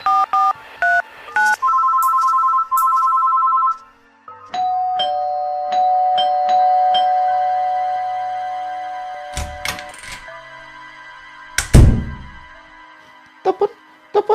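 Telephone tones beep in a series of short electronic notes, then longer held tones, followed by a brief thud near the end; fairly close and clear with no talking.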